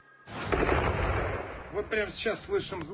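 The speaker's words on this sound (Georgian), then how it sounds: "ახლა გვესმის სროლა, წავედით, გავიქცეთ." A sharp burst of gunfire in a war zone cracks out near the start, then rolls into a sustained rumbling roar as voices begin speaking over it.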